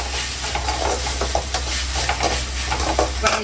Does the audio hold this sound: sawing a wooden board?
no